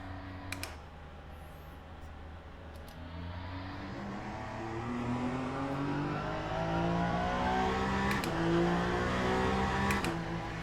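The Peugeot hypercar in Le Mans Ultimate revs up steadily, its flat-sounding engine note rising in pitch over several seconds, with a few faint clicks like keys or controls over the drone.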